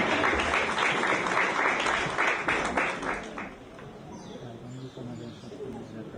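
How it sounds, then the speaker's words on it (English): Applause rises from the audience at a school graduation ceremony, a moderate burst of clapping that fades after about three seconds into quieter ambience. "Let us give him a round of applause as he makes his way on stage."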